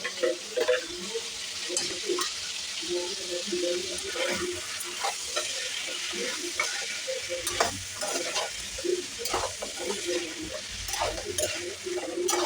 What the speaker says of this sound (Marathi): हळद आणि मिठामध्ये व्यवस्थित परतून घ्यायचं आहे